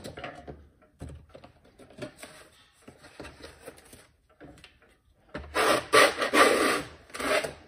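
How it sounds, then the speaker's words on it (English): A putty knife scrapes adhesive out of a case with short, irregular scratchy strokes and small knocks. Quiet at first, then a louder, rougher burst of scraping near the end. Close by, with no voices. "So I'm just going to take a putty knife, scrape this right out."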